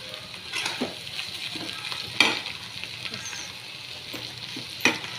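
Roasted bitter gourd stir-fried in a pan of thecha for chutney, giving a steady close sizzle of frying with soft stirring scrapes and two sharper clinks of a utensil against the pan.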